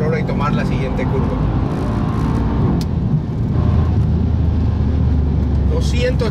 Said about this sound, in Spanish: 200 kilómetros por hora ahí y prácticamente el motor lo hace sin mucho esfuerzo